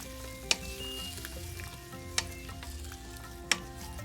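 Lemons for a spicy Kerala-style red pickle sizzle in hot vinegar in a pan, a constant close frying hiss broken by three sharp spoon taps against the pan.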